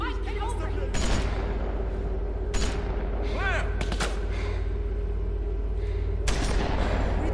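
Gunfire erupts in The Walking Dead video game, several sharp reports at irregular intervals over a steady, loud background din, with voices talking through it.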